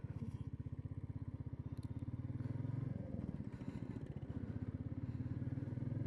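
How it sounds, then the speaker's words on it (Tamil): A 2025 Royal Enfield Meteor 350 with a 349cc single-cylinder air-oil-cooled engine thumps steadily while ridden, its loud, close, even pulsing beat dipping briefly and picking back up without speech. "2025 நியூ அப்டேட்டடான மீட்டியார் 350 தான் இப்போ ஓட்டி நம்ம பார்க்க போகிறோம்"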